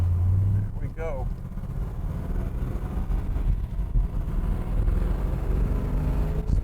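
A 1969 Chevrolet Camaro big-block engine with Muncie transmission idles through a quiet exhaust, a steady low rumble that holds throughout, with a brief voice near the start.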